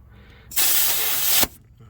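Compressed air from an air hose blasts into a Tial blow-off valve in one loud, steady hiss lasting about a second, starting and cutting off abruptly against a quiet background.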